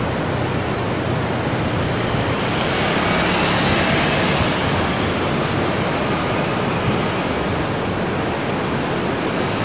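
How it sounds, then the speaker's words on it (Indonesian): A dense, continuous roar of surf and breaking waves at Melasti Beach, Bali, fills the whole stretch, loud and steady with no pauses. "Ini dia Pantai Melasti yang sangat indah."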